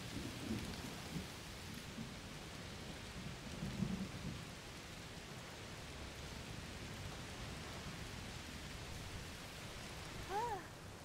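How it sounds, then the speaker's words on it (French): Heavy rain and a thunderstorm in the video game A Plague Tale Requiem: a steady, dense rain hiss fills the whole stretch, with a faint rumble of thunder underneath and a few brief distant tonal sounds near the end. "Il pleut très fort. Oui, un orage de chaleur sûrement."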